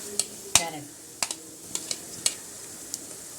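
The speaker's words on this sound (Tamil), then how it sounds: "பீன்ஸ், குடமிளகா, முட்டைக்கோஸ் எல்லாமே நல்லா வதக்கணும்" Chopped carrot, beans, capsicum and cabbage being sautéed in a pan for bread rolls, soft frying hiss broken by several sharp spatula scrapes and taps at irregular intervals.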